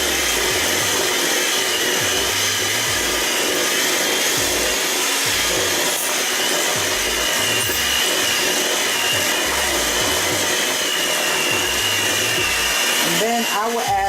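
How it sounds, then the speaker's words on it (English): A stand or hand mixer runs steadily and loudly, blending flour into cinnamon pecan bread batter; the whirring motor holds nearly constant throughout, changing briefly near the end. "Start to add half of the flour and mix it."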